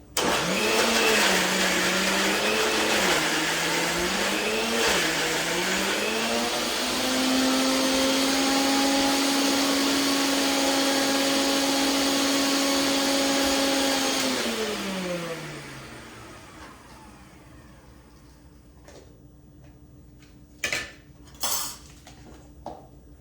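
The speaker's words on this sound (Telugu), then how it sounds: "అలా చూసుకుంటూ గ్రైండ్ చేయాలి." A mixer grinder whirs loudly for about fifteen seconds while blending ivy gourd chutney, its motor pitch rising then holding steady before it winds down and stops, followed by a few clinks of the jar and lid.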